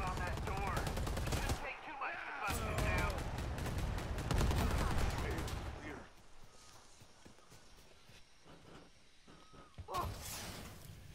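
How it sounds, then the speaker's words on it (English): Gunfire in a video game, a weapon firing on its own in rapid automatic bursts, loud and dense for the first several seconds, then thinning to scattered shots, with a few rapid rattles near the end under background game noise. "Fucking gun shooting by its fucking self again."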